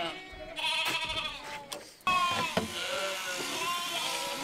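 Loud, wavering sheep bleats up close, several calls one after another with a short pause between them.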